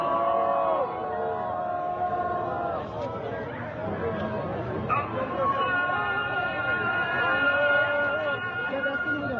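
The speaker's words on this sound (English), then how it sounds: "That's the azan. That's the morning call to prayer that happens at the same time of the execution." A morning Islamic call to prayer (azan) rings out over a crowd at a public hanging in Isfahan, Iran: a sustained, wavering chanted voice heard at a distance above steady crowd murmur and babble.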